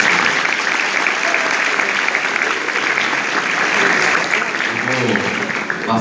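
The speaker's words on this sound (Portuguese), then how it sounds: "uma salva de palmas para o nosso palestrante" An audience at a lecture gives a speaker a loud, sustained round of applause, with many hands clapping close and continuous at full strength, and a faint voice surfacing near the end.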